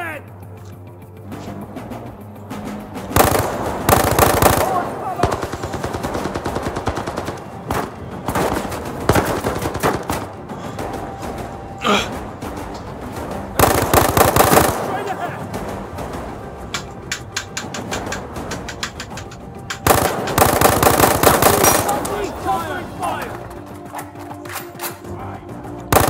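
Bursts of automatic machine gun fire in the VR shooter Zero Caliber, several loud rapid volleys separated by quieter stretches, with voices speaking between and under the shooting.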